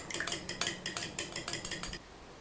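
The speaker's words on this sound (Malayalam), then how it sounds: "ഞാൻ ഒരു മുട്ട എടുത്തിട്ടുണ്ട്. നമുക്കൊന്ന് മിക്സ് ചെയ്തെടുക്കാം." A fork beats an egg in a bowl for coating chicken cutlets, with about a dozen quick, sharp metallic clinks in steady rhythm, close and clear, before stopping.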